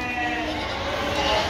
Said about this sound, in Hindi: देखो ये बकरा जो भाग रहा है,